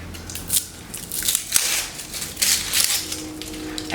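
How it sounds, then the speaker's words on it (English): Onions being peeled by hand for homemade ketchup: close, crisp papery crackles and snapping bursts of dry skin tearing away, coming in irregular clusters with short pauses between, no voices. "let's get our onions peeled"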